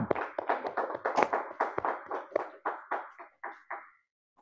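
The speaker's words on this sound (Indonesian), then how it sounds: "Terima kasih tepuk tangan" Scattered studio audience clapping on an Indonesian talk show. A quick run of distinct claps thins out and fades over about four seconds, with no talk.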